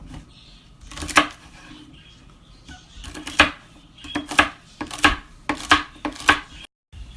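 A knife chops celery on a board in a home kitchen, a run of sharp, irregular thuds that grows denser toward the end, close and distinct with no talk.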